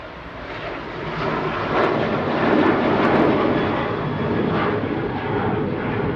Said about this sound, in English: Departing now, though, is Ryanair's first departure to Mahon